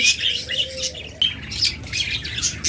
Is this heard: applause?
no